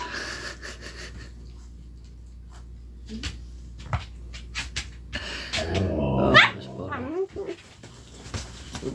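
A dog makes strained, wheezy breaths and rising whining vocal sweeps while holding back from barking, building to a louder burst in the middle before settling again, with room noise and a few knocks around it.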